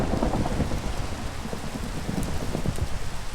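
A steady rainstorm hisses and patters in the Minecraft video game, with low rumbling thunder rolling through the downpour, constant and fairly loud throughout.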